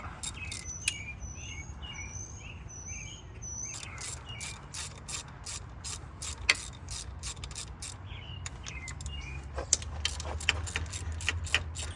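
A ratchet works loose a 12mm ground bolt in the engine bay of a Mitsubishi Lancer Evolution X, repeated quick clicking bursts close by, with faint chirping birds and background hum behind.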